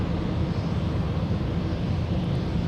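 A fixed-wing airplane at Minneapolis–Saint Paul airport, with a steady, loud low engine rumble and broadband roar that holds evenly throughout, no voices present.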